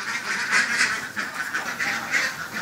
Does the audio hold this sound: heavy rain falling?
no